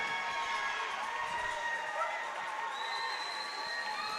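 A crowd at a high school hockey game in a rink roars with sustained cheering and applause after a goal breaks the shutout, a dense steady wash of voices and clapping throughout.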